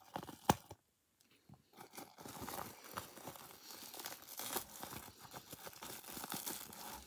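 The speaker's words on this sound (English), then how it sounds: "they're wrapped in bubble wrap" Plush toys are pulled from bubble wrap in soft, close crinkling and rustling, with one sharp crack near the start, a short quiet gap, then steady handling noises.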